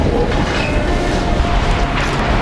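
Metro train rumbling loud and steady, with a deep low roar, a clattering rattle and a faint squeal on top, continuous throughout with no talking.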